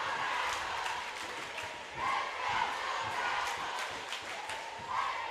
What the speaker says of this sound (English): the Lanier County side is fired up, cheering on their team